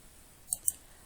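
Two quick, light mouse clicks on a label in a database program, about a sixth of a second apart, in a quiet room with no talking.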